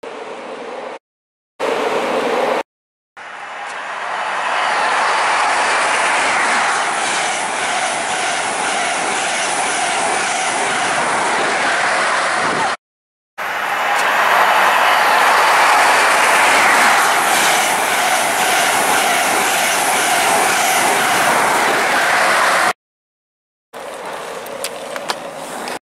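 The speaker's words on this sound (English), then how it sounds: "Here we have a class 66 freight going to Doncaster, I think. Freightliner." A Class 66 Freightliner freight train passing at Grantham, with a loud, sustained rumble and clatter of wagons rolling by close up and no voices. Short breaks interrupt the sound near the start and in the middle.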